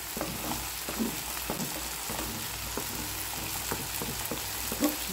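Okra, chickpeas and tomato fry in a pan while being stirred, a moderate, continuous sizzle broken by repeated soft spatula scrapes and knocks at an irregular pace.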